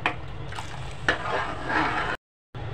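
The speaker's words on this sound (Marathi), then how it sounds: "आता पूर्णपणे स्लो गॅसवर ढवळ्या." Rasmalai milk stirred in a pot over low gas, with a soft continuous scraping and swishing, gentle bumps of the spoon against the pot and a faint sizzle, stopping abruptly near the end.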